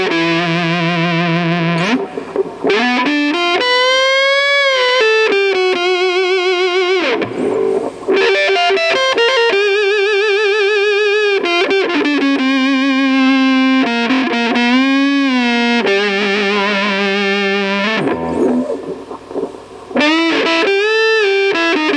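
A worn brown 2007 Epiphone SG G-400 electric guitar plays through distortion and chorus effects, giving sustained, loud, singing lead notes and bends in a nasal, clipped tone, broken by short pauses, with no talking.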